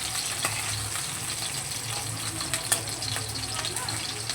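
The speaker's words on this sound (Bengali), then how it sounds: "এবার দেখো উল্টিয়ে দেবো এই পিসটাকে ভাজার জন্য। এটা ইলিশ মাছের মাথা" Hilsa fish head frying in hot oil, a continuous crackling sizzle with occasional sharper pops, close and fairly faint, while someone talks.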